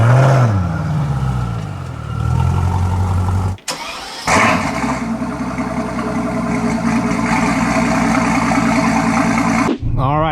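A straight-piped Mercedes S65 starts with a loud crank and roar, cuts out briefly, then restarts into a loud, raspy, droning engine note that continues while someone talks over it.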